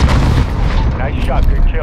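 A missile strike in Call of Duty: Modern Warfare detonates as a heavy, rumbling explosion that stays loud and dense throughout, with a deep roar rolling through the whole moment.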